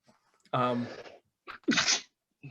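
A single sneeze, sharp and close in a quiet room, preceded by a short voiced intake and followed by a brief pause.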